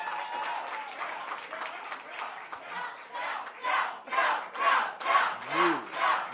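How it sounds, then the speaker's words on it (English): A crowd at a North Carolina Democratic Senate primary victory rally applauds and cheers for the campaign team, first as a steady wash, then swelling into rhythmic, pulsing chant-like bursts of cheering. "Let's give them a round of applause."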